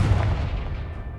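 A Confringo spell blast in Hogwarts Legacy lands as one loud, deep boom that rumbles and fades over about a second.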